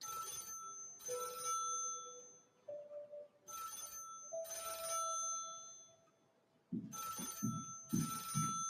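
An old telephone bell rings in repeated bursts with pauses between them, clear and fairly close, in a scene from a drama about Professor Albert Einstein, with no talking over it.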